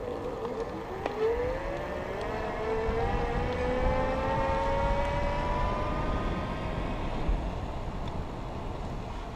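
The hub motor of a Big Cat Hampton folding e-bike whines up under twist throttle, a rising electric tone that climbs in pitch and holds steady over road and wind noise.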